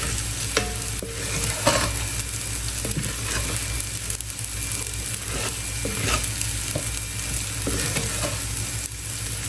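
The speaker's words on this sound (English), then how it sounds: "Make sure your heat is on low when toasting your fried rice." Fried rice is toasted and stirred over low heat in a pan, producing a steady close sizzle throughout with scattered scraping clicks of a spatula turning the rice, no voices.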